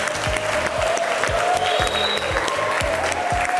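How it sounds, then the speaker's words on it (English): Quiz show studio audience applauding as contestants are eliminated, steady sustained clapping with music running underneath throughout. "Please give them a big round of applause."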